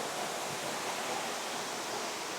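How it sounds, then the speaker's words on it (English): Lower Piney Falls waterfall pours with a steady broadband rush, heard from the trail close behind the falling water, continuous and even with no voices. "So you walk behind the waterfall on the trail. Waterfall's right there."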